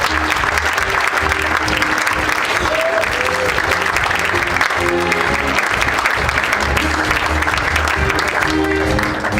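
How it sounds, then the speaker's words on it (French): A gala audience applauds steadily for over nine seconds, dense continuous clapping with faint voices and music tones threaded underneath. "Je pense qu'on peut une fois de plus applaudir tout le monde."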